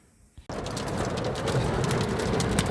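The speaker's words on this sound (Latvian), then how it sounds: "ārā šobrīd risinās neliela vētra ar krustas graudiem" Small hailstones drumming on a car body and windows, heard from inside the car during a brief storm; after a quiet start the dense, steady pattering starts suddenly and keeps building.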